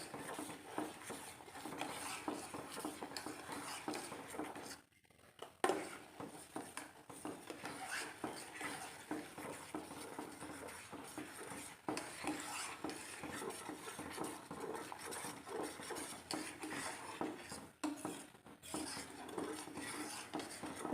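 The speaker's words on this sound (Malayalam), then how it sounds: "നമ്മൾ ഒഴിച്ച് കഴിഞ്ഞാൽ നമ്മൾ കൈ ഇളക്കാതെ ഇളക്കിക്കൊണ്ടിരിക്കണം." Custard being stirred continuously in a pan for a fruit salad, a steady soft scraping and clinking of a utensil against the metal that runs throughout with a brief pause partway, no talking over it.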